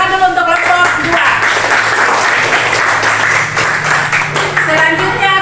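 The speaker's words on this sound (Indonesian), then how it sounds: "Tepuk tangan dulu untuk kelompok 2" A classroom group claps for a student group after their presentation, a dense burst of applause that holds steady for several seconds, with voices talking over it.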